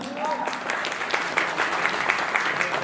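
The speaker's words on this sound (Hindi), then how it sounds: "दीपक सर, म्यूजिक वाइड फैमिली की ओर से पावर स्टार के लिए पुष्प गुच्छ जोरदार तालियों के साथ।" Audience applause welcoming a guest at a Bhojpuri star's stage event in Lucknow, a steady dense clapping that fills the whole moment at even loudness.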